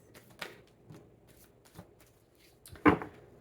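Tarot cards being shuffled by hand before drawing a card: soft papery riffles and taps in short bursts, ending in one louder snap, close and fairly quiet.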